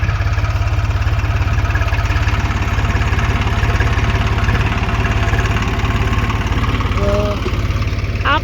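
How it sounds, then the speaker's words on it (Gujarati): A tractor's diesel engine on a farm chugs steadily at idle, a close, rhythmic low thumping that runs throughout with little change. "હવે હાલતું થઈ જશે છે ટ્રેક્ટર જોઈ શકો છો"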